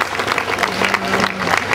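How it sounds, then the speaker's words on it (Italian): Live concert audience applauding a singer between songs, a dense steady roar of clapping with faint crowd voices mixed in, filling the whole stretch at even strength. "A me volete fare un applauso?"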